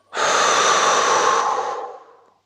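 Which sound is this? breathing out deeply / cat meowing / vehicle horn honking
breathing out deeply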